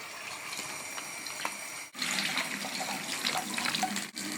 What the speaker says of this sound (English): I'm going to fill my bag up with water and put it in the bowl for my crawfish stock.